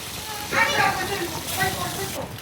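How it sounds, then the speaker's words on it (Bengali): Onion frying in hot oil in a pan for a rohu fish dopiaza, a soft steady sizzle beneath someone talking close by, with brief bursts of stirring. "তেল গরম করে পেঁয়াজটাকে ভেজে নিচ্ছি"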